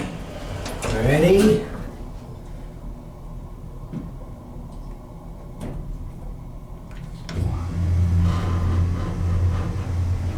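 Doors of a vintage Otis hydraulic elevator sliding shut slowly, with a brief voice at the start, scattered clunks, then a louder low rumble and hum as the car starts moving.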